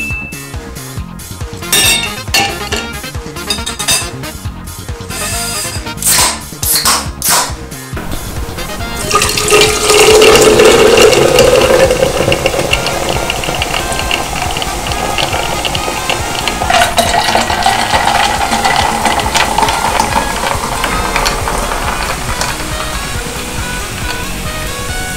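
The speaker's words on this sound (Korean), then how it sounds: "이렇게 웰치스 청포도 맛 1리터를 따라봤는데요" Ice clinks and rattles in a glass at first, then a liter of Welch's green grape soda pours over the ice in a steady, fizzy gush that rises in pitch as the container fills.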